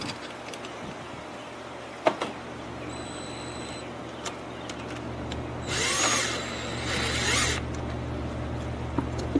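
A power screwdriver driving 8mm bolts on a GY6 150cc scooter, heard as a brief buzzing whir of a few seconds against a quiet workshop background, with a few faint clicks around it.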